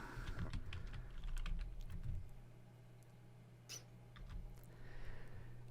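A computer keyboard is typed on quietly, a short run of soft key clicks over faint background hum, no speech.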